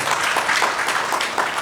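An audience at a numerology workshop in the Constitution Club of India in New Delhi breaks into steady, dense applause that fills the whole moment, close and fairly loud, with no talking over it.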